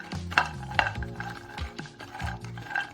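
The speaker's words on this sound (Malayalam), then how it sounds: "നല്ല ഒരു ലോ ഫ്ലെയിമിലിട്ട് നമ്മളത് വറുത്തെടുക്കണം." Cashew nuts roast on a low flame while a spoon stirs and scrapes them around a pan, giving close, repeated clinks and rattles with a faint sizzle.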